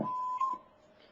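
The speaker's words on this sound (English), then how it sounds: "Please leave your name and number after the beep." A single answering machine beep sounds as a clean, steady electronic tone lasting about half a second, followed by a faint hiss of silence.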